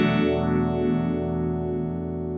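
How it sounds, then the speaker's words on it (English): A Strymon Zelzah modulation pedal in phase vibrato mode: a sustained, distorted-sounding tone with sweeping, warbling phase motion rising and falling in a steady cycle, loud and without voices. "As we go past noon, we'll hear some of these phase vibrato type effects."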